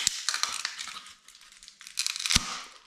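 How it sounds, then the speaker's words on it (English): A plastic ice scraper is peeled off its mount, producing close crackling, crinkling and snapping bursts with a sharp crack near the end, with no talking. "And this ice scraper I hope we can just peel off"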